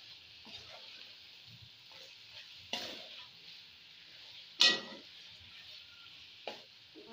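Pre-boiled chicken fries in a pan, giving a steady low sizzle with occasional louder scraping stir strokes, one sharp clatter near the middle, close and moderately quiet.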